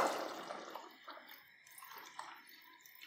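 Water is poured from a cup into a pot of goat intestine curry, a quiet splash at the start that tapers into soft trickles and drips.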